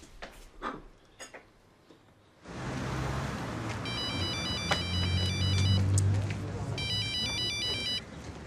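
An electronic telephone ringtone chirps in two repeated bursts over a steady room background, following a few sharp knocks and shuffles, with voices speaking nearby.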